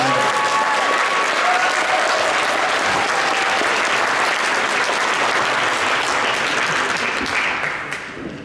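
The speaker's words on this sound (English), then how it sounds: "let's give these second place winners a round of applause for their hard work" An audience at the CUSF 2024 junior and senior finalist awards applauds the second place winners, a dense, steady wash of clapping that holds strong for about eight seconds before tapering off at the end.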